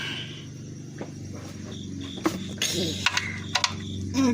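A ratchet with a 17 mm socket clicks in short, uneven bursts during a Honda Accord oil change. The clicks are fairly faint and sit over a steady low background hum, with no talking.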